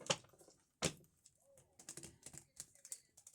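Playing cards are shuffled in crisp bursts of rapid flicking and snapping, close and quiet, with short pauses between riffles.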